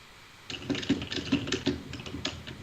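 Quick, irregular taps on a computer keyboard, close and fairly soft, with a brief pause partway through and no voices.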